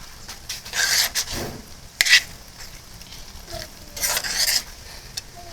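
A burger mixture with carrots is stirred in a bowl, giving several short scraping, rubbing bursts separated by quiet pauses, close and moderately loud.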